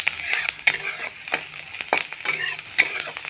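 Onions frying in a pan for Assamese chicken curry, a steady sizzle broken by repeated sharp scraping strokes of a spoon stirring against the metal, close and fairly loud with no one talking.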